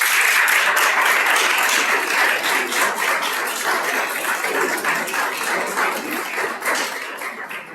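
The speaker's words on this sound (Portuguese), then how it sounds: "Nossas palmas." An audience at an evening lecture applauding, dense and steady clapping from a room full of people that slowly thins out over several seconds.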